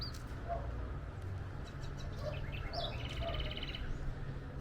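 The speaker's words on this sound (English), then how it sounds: "Oh, he chirps too, guys." A bright red bird with black wings and a small black mask chirps in a bird-filled campground in Colombia, its short high calls coming faintly through steady outdoor background noise.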